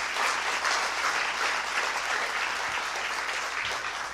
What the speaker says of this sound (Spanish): Vamos a darle denle un fuerte aplauso sin temor.